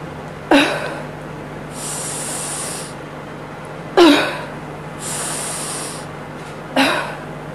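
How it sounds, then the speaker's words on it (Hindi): Three sharp, forceful huff-cough exhalations from a breathing exercise, spaced a few seconds apart, each a breathy burst that trails off, with a faint hiss between them. "आपको लंबी गहरी सांस लेना है और खांसी की तरह छोड़ना है।"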